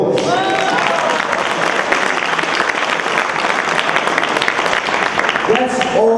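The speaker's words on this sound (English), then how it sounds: "Now give them a round of applause." A seminar audience claps in sustained, loud applause for several seconds, filling the room evenly, with a speaker's voice briefly heard at the start and again as the clapping fades.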